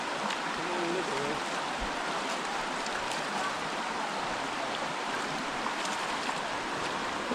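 Water rushes steadily while a creek is being crossed on a property, a continuous broadband splashing wash that stays loud and close throughout, with no clear voices standing out.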